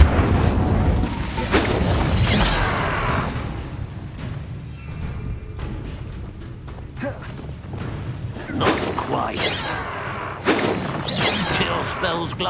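A Confringo blasting spell in Hogwarts Legacy bursts with heavy booms and whooshing impacts over a low rumbling bed. Two explosive hits come early, then a quieter stretch, then several sharp blasts later. Voices are heard during the action.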